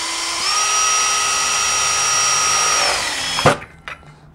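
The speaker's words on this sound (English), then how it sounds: "drill bit and we will drill a hole." A power drill with a number 7 bit spins up and bores a hole for about three seconds at a steady high whine, then winds down and stops with a clunk, nearby and alone.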